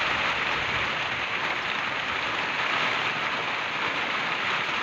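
Rain falls right after a pruning job, making a steady, moderately loud patter and hiss on surrounding surfaces that continues evenly throughout, with no speech.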